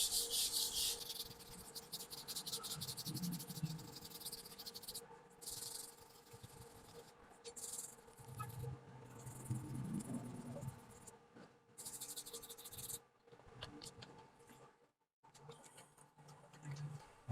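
Hand sanding a car body panel with 150-grit sandpaper during body repair, faint repeated rubbing and scratching strokes in bursts with brief pauses between them.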